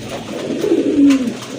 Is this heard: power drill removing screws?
no